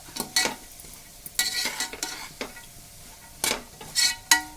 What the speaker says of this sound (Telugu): ఇవన్నీ బాగా కలిపేసుకోవాలి. ఇదిగోండి ఇలా కలుపుకోవాలి.